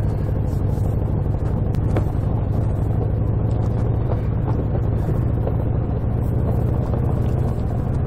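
A car crossing a rough-surfaced toll bridge, giving a steady, loud low rumble of road and engine noise with wind buffeting and faint rattles, unbroken from start to finish.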